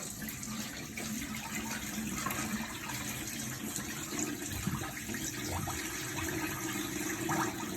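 Water being drained off soaked yellow corn pap for making agidi, a soft, steady trickling and sloshing of liquid heard up close but faint, running continuously without any voices.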